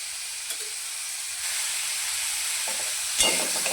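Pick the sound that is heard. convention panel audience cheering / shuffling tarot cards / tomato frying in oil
tomato frying in oil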